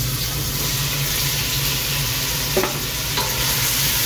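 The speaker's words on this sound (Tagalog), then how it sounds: "maghuwat nga ma-brown ang ato ang chicken" Ground chicken fries in a pan while being stirred, giving a steady close sizzle with a couple of brief scraping knocks from the utensil near the middle.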